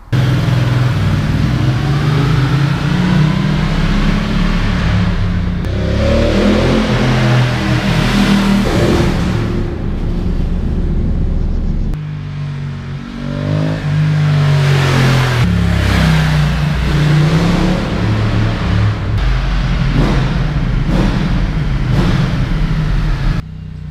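A Ducati Multistrada 1200S Pikes Peak motorcycle engine revs hard inside a tunnel, loud and close, its pitch climbing and falling through repeated throttle blips with a reverberant roar and no talking.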